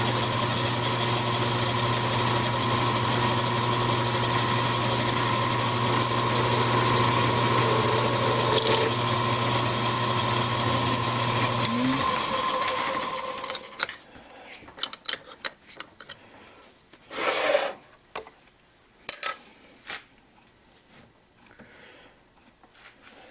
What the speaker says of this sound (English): I'm going to countersink the hole to start the tap